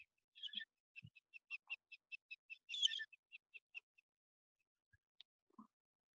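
Birds chirping outdoors in a quiet setting, a run of quick, evenly spaced high tweets with one fuller trill in the middle, then scattered faint calls and light knocks toward the end.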